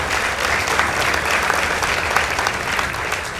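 Sustained applause from a school debate audience honouring Riara Springs Girls High School and Aga Khan High School, a dense steady roar of many hands clapping close by, even in level throughout with no speech over it.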